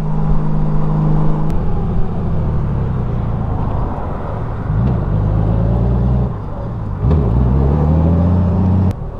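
A 2019 Honda Goldwing DCT trike with an 1833cc flat-six engine running and pulling past: a smooth, deep steady hum that rises and falls in pitch as it revs through gears, close and loud, with no talk.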